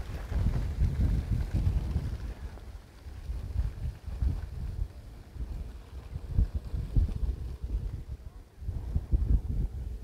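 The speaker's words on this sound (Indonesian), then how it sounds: "Nah, ini anginnya kencang ini, teman-teman." Strong gusting wind buffeting the microphone over a green rice paddy field, a loud rumbling roar rising and falling in waves.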